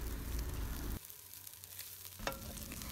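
Steady sizzling of chicken stir-frying in a wok, with scraping and stirring noises and a brief clink near the end.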